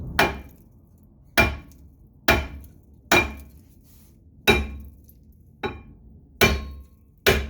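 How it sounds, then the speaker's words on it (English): A hammer strikes a front brake rotor on a 2011 Kia Soul 1.6, eight sharp metallic blows at a steady interval of about one second, each ringing briefly before quiet. "Hammer the rotor in the front."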